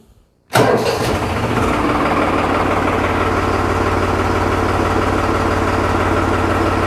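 New Holland T580 tractor engine, out of storage for nine months, cranks and fires after a brief moment of near silence, then settles into a loud, steady, rumbling diesel idle close by.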